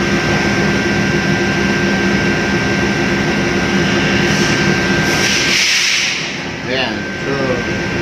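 Ship's main engine started on starting air and run for testing: a loud, steady mechanical drone filling the engine room, with a brief dip and hiss toward the end, and a voice talking over it.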